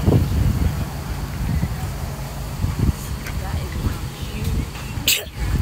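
A single sharp sneeze bursts out near the end, outdoors at a space center entrance, over steady wind noise and background voices.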